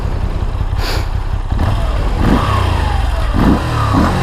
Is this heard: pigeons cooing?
no